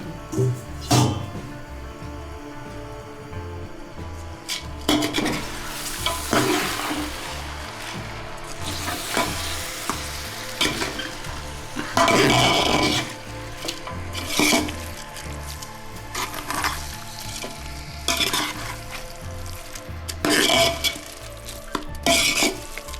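A spoon scrapes and stirs through mutton pulao frying in a pan, with a continuous sizzle under repeated clinks and scraping strokes that come in irregular bursts.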